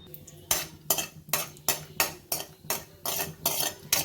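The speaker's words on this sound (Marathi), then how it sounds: "मी जे ड्राय ड्रायफ्रूट्स घालणार आहे तर ते मी तुपामध्ये परतून घेणार आहे" A spoon scrapes and clanks rhythmically against a kadhai as dry fruits fry in ghee, about eight sharp metallic stirring strokes at a steady pace over a soft background sizzle, close and with no talking.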